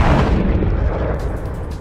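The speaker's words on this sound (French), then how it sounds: "Après cette magnifique explosion digne de Hollywood" A big cinematic explosion effect roars in loudly, a dense rumbling blast that fills the space and slowly decays over nearly two seconds.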